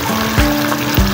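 Tilapia in coconut milk simmers in a home cooking pan, a busy bubbling hiss with a couple of soft pops, close and steady without talk.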